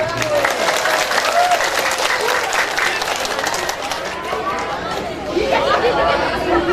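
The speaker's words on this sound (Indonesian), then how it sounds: "Beri tepuk tangan dulu yang meriah." Loud, sustained applause from an audience at a school graduation ceremony, with crowd chatter and voices mixed in throughout.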